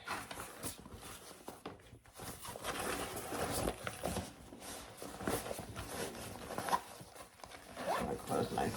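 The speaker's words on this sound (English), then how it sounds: "I'm going to open my zipper pocket" A zipper on a zippered pocket of a sewn crossbody bag is pulled open with quick, close scratchy rasps in several short bursts, alongside soft handling of the fabric.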